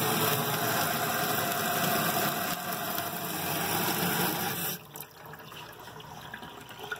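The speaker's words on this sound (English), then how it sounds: "the first thing we need to do is to measure the force of the water coming from the spigot" Water streaming steadily from a sink spigot into a basin, a constant hissing rush over a faint mechanical hum, cutting off abruptly partway through with quieter residual noise after.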